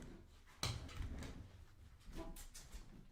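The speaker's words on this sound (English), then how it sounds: "Let me go ahead and shut this door because this dog wanted to open everything." An indoor door is pushed shut with a single sharp thud, followed by softer shuffling and handling sounds close by.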